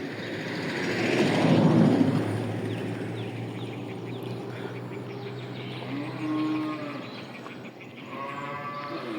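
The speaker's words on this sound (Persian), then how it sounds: "سلام سلام گاو عزیز." A cow lows at a village farm in the Mazandaran countryside, with a loud, drawn-out moo in the first seconds followed by softer, shorter calls from the herd.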